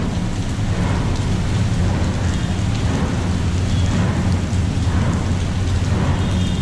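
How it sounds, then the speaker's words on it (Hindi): Heavy rain pours steadily in Mumbai in a dense, continuous hiss, with a deep low rumble running beneath it and no voices. "मतलब खतरनाक बारिश चालू है यार।"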